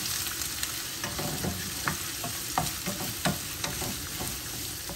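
Onions frying in a pan until golden for kheema give a close, continuous sizzle, broken by light scraping and tapping as they are stirred.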